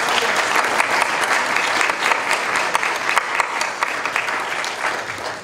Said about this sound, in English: I'd like to give her a round of applause for all of her.